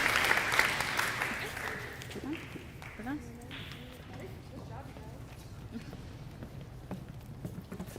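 Applause from an awards-ceremony audience for middle school tennis players, dense clapping loudest at the start and thinning out, with a voice speaking over it.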